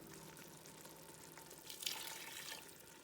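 Beef broth pours into a cooking pot of Milanese pork and cabbage cassoeula, a soft liquid splash and sizzle rising briefly in the middle of a quiet stretch.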